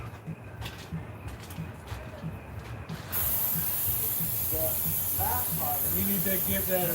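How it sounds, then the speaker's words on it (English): Non-stick cooking spray hisses out of a can onto a homemade pizza, a loud steady spray that begins abruptly partway through and continues to the end, with a person talking and faint sounds around it. "You need to take your non-stick spray"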